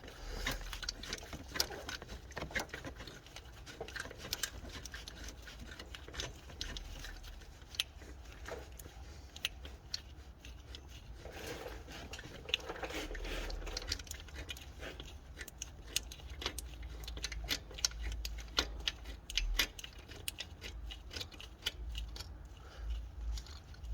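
A wrench works the belt tensioner bolt on a 2007 Honda Odyssey during a timing belt and water pump job, making quiet, close clicking and metallic ticks in an irregular rhythm over a low background hum.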